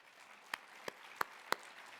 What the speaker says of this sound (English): Mayor, we applaud you.